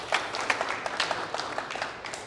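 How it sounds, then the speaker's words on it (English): A small audience at a Brownsville startup meetup gives a brief, modest round of applause for a coffee sponsor, scattered individual claps close by and fairly quiet. "make sure you guys give it a round of applause"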